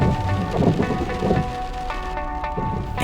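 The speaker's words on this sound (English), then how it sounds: "The rain doesn't seem to be getting any quieter." Heavy rain pours down in high mountain country near 4,400 meters, a dense loud hiss with low thunder-like rumbles swelling and fading.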